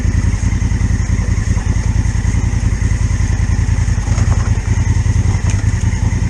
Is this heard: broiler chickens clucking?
no